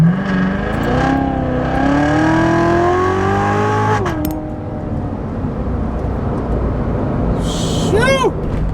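A supercharged 650-horsepower Corvette Z06 accelerates hard from a standing takeoff. Its loud engine roar climbs steeply in pitch for about four seconds, then cuts off abruptly, leaving a lower rumble of road and wind noise and a short whine near the end.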